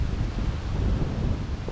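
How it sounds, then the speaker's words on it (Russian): Strong wind gusts by a small overgrown river, a steady broadband roar of wind buffeting the microphone with rustling, loud and continuous with no talk. "Очень сильный ветер."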